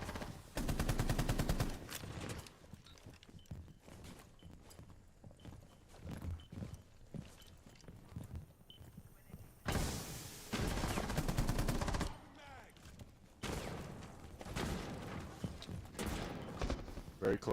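Rapid automatic gunfire bursts from a Modern Warfare esports playoff match, loud clusters of shots between quieter stretches of footsteps and game ambience, with commentary running throughout.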